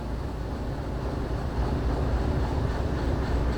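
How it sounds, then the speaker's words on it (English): Locomotives running in the train game Derail Valley give a steady low rumbling drone of rolling rail cars, continuous and moderately loud throughout with no talking. "I can use these rear locomotives to run them up that side track."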